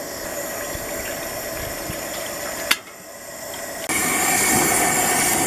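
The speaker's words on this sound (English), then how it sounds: "Okay, our water's starting to boil." Water heats toward a boil in a pot on a camp stove outdoors for cowboy coffee, a steady close hiss and rush that briefly dips and then comes back louder, with no one talking.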